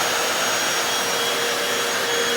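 A Hoover FloorMate Deluxe floor cleaner runs in dry mode with its spin scrub brushes raised, giving a loud, steady whining suction roar close to the microphone, unbroken throughout, with no talking.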